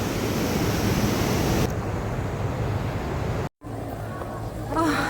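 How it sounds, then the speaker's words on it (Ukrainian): Strong ocean waves at Puerto de la Cruz roar as a loud, continuous wash of surf, with a brief dropout partway through. "Сьогодні дуже сильні хвилі"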